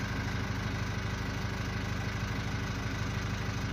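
Hino Dutro truck diesel engine idling with no throttle or clutch input, a steady, fairly quiet low rhythmic chug with even vibration throughout.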